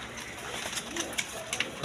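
High-flying white pigeons coo faintly in a short, soft sequence of low murmurs against background noise, with a sharper sound right at the end.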